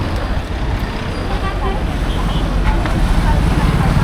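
Steady roar of road traffic with many vehicles passing near Khadakwasla dam in Pune, a continuous broadband rumble filling the whole stretch, with voices mixed into the background.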